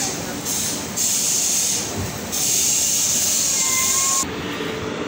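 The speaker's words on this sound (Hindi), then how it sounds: "ट्रेन आ चुकी है रुड़की रेलवे स्टेशन पर" Loud hissing rail noise rises and falls over a rumbling background as a train rolls into Roorkee railway station, with a brief squeal near the end.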